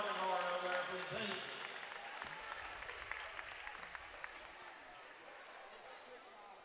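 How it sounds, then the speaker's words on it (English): A high school basketball crowd in a gym applauds the cheerleaders, a broad burst of clapping that fades under a voice talking over it, with light scattered claps and court sounds trailing off. "Let's give our cheerleaders a big round of applause"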